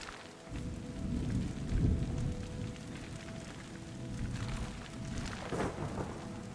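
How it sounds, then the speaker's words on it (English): A thunderstorm in the game Terra Nil, with low rolling thunder and steady rain on surfaces, rumbling swells rising and fading over the constant patter. "if a fire can actually spread in this storm."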